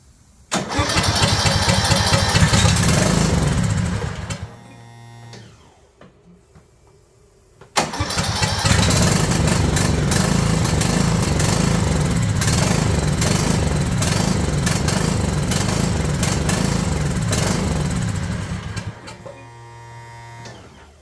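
A John Deere Z255 zero-turn mower with a blown-up engine cranks and catches, runs loudly for a few seconds, cuts out, then restarts and runs steadily for about ten seconds before shutting off, with no talk.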